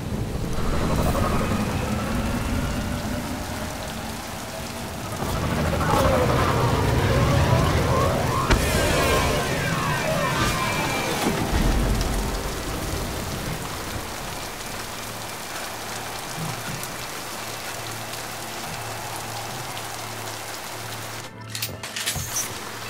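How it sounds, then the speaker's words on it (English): Heavy steady rain with rolling thunder in the video game Mass Effect Legendary Edition, a loud continuous downpour with a swelling thunder rumble in the middle that fades back to constant rainfall. "the rain's gonna keep going."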